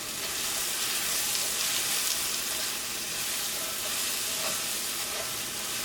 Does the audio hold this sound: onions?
yes